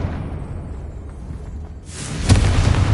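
A Confringo blasting spell in Hogwarts Legacy bursts into a sudden loud explosive blast after a low, quiet rumble, leaving a roaring noisy tail.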